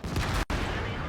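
A tank gun fires in World of Tanks, a loud, sharp blast followed by a rumbling tail.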